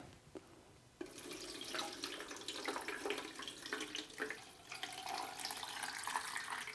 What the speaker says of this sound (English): I put it in this container here, and let's pour some water in.